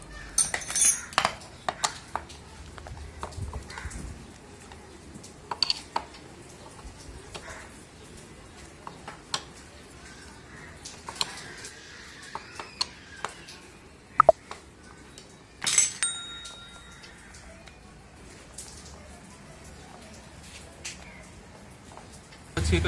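Small metal parts and bolts clinking while being removed from a Bajaj auto rickshaw CNG LPR kit, scattered sharp taps and chinks at irregular intervals over a quiet background, with occasional faint talk.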